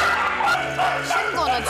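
A rescued puppy with a head injury at an animal shelter yaps and whimpers in short, close bursts, with some background noise and faint voices mixed in.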